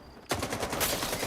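Sudden burst of automatic gunfire in STALKER 2 erupts after a brief quiet, a dense rapid volley of loud shots rattling on without pause.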